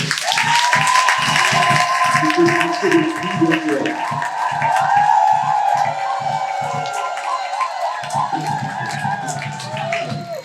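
A church congregation at a wedding applauds and cheers, a steady crowd roar with clapping running throughout, partly under singing voices and a sustained musical tone.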